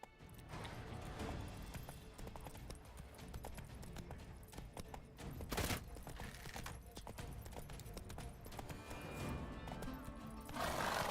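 Roach, Geralt's horse in The Witcher 3, galloping with steady close clip-clop hoofbeats and loud whinnying neighs over a busy, noisy game soundscape.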